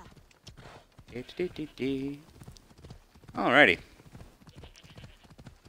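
Horse hooves clip-clop steadily in the video game Assassin's Creed Odyssey, with a brief whinny-like call partway through. A person talks over the sound.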